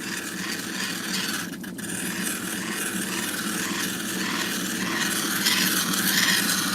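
Softer turquoise is worked into a cabochon on 600 grit, making a continuous close-up wet rubbing and grinding hiss that keeps an even level with slight pulsing as the stone is moved quickly.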